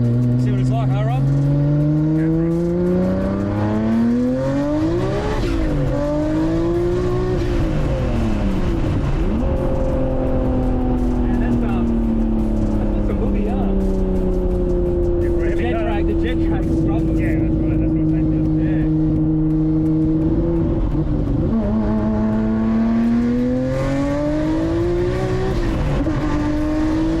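Twin-turbo Nissan Skyline GT-R R34 making 900 hp with low-mount turbos revs repeatedly, its engine note rising and falling in sweeping pitch changes, loud and close, while people talk over it.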